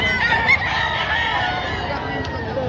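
Roosters and hens at a Tuesday poultry market crow and cluck nearby, a loud, continuous layered chorus of fowl calls with busy market background noise.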